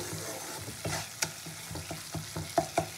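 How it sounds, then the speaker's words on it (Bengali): Spice masala and kasundi mustard frying in a pan for a Bengali katla fish dish, with a soft steady sizzle under irregular scraping strokes of a spoon stirring the paste. "তো মশলা আর কাসুন্দিটা একসঙ্গে খুব ভালো করে কষিয়ে নিয়ে এবারে পরিমাণ মতন জল দেবো"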